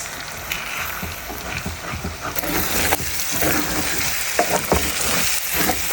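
Egg and potato curry with turmeric, coriander powder and salt is stirred in a frying pan, giving a steady sizzle with repeated scraping and clinking strokes of the spoon throughout, fairly close.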